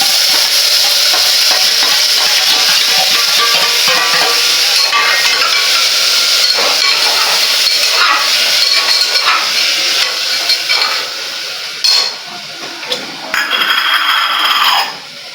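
Onions, tomatoes and potatoes frying in hot oil with cumin in a pan for khichdi, a loud dense sizzle and hiss with occasional clinks of stirring, easing off toward the end.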